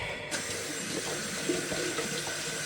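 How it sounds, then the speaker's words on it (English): Tap water runs steadily into a sink while a plumbing compression fitting is rinsed out, a continuous close splashing hiss with no talking. "Wash it out in the sink"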